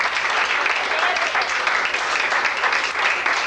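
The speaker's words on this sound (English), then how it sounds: "Have a round of applause for our model." Sustained applause from a family reunion crowd in Casper, Wyoming, a dense even roar of many hands clapping at steady loudness throughout, with faint voices mixed in.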